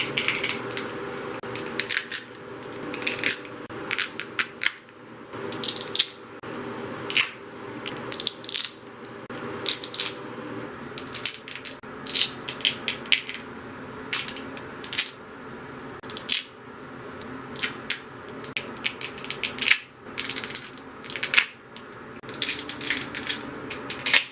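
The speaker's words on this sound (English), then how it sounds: "Now it's time for support ripping ASMR." Support material being ripped off resin 3D-printed ball-jointed doll parts makes irregular bursts of crisp, close snaps, cracks and clicks, some in quick clusters, with no talking.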